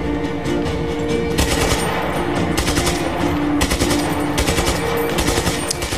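Rapid automatic gunfire from a newly picked-up gun in the open-world action game Just Cause 3, loud and close, firing in sustained bursts broken by short gaps, with steady background game noise underneath.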